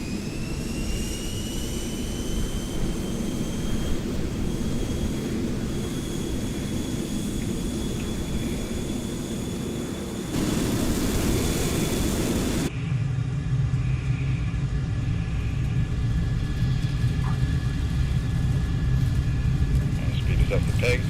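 An F-14 Tomcat jet rolls down the runway for takeoff in Microsoft Flight Simulator, its engines roaring in a steady loud rumble. A high whine sits on top, and the pitch shifts as thrust builds, with speech over it.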